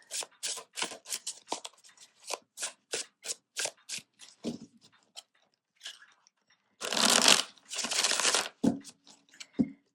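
Deck of tarot cards being shuffled up close, a run of quick crisp riffles and snaps followed by two longer bursts of bridged riffling, with short pauses between.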